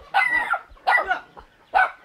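Three sharp dog barks, fairly close and loud, with short pauses between them, heard outdoors in a rural village setting in Vietnam with no talking.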